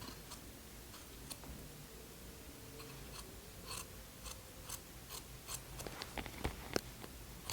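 Scissors trimming excess suit fabric, a series of quiet, irregular snips and ticks that grow busier toward the end over a low background hum, with no voices.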